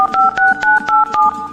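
Telephone keypad dialing: a quick run of about six crisp two-pitch DTMF beeps, each briefly separated, loud and close, with no one talking.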